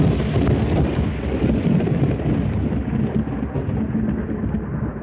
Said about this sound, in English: there was a noise like thunder